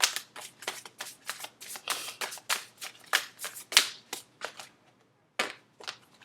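Tarot cards being shuffled, a rapid run of close, crisp riffling bursts in quick succession, with a short pause before a few final flicks.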